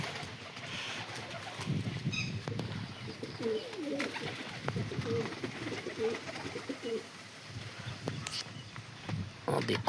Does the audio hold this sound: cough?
no